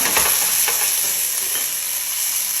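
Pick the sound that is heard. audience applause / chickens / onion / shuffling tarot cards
onion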